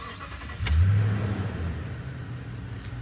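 A 2015 Toyota Tundra SR5 with a 5.7 liter V8 cranks and catches with a brief rising roar, then drops into a steady, rumbling idle nearby, heard alone without speech.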